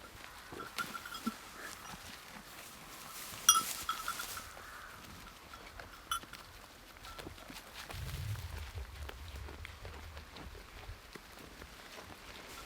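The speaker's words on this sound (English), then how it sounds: "just getting to walk the goats" Goats walking and grazing on a no-dig market garden farm, with soft rustling, scattered hoof steps and faint animal sounds outdoors, broken by a few louder bumps and a low rumble in the background.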